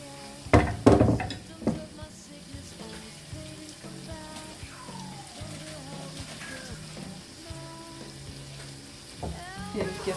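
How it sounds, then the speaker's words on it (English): Tomatoes sizzling and frying as they are tipped into a pan of lamb and cabbage curry, a loud crackling burst at first that settles into a steady, close hiss with occasional stirring clatter. "So I'm just going to be adding our tomatoes."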